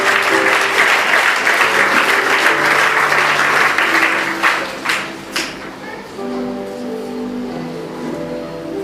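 A church congregation applauds loudly, a dense and steady wash of clapping that thins and fades after about five seconds, leaving a soft sustained tone beneath.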